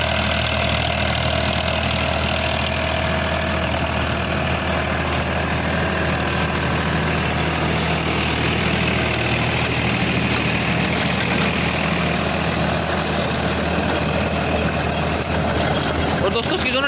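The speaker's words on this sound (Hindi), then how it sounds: "और बाकी देखो ट्रैक्टर जो ना बढ़िया चल रहा है" A farm tractor engine runs steadily while ploughing a sugarcane field, a loud, continuous low rumble with no break, under light talk.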